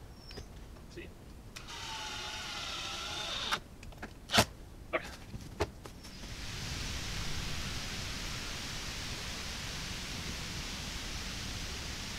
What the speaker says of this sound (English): I don't know if y'all can hear that, but that's raining.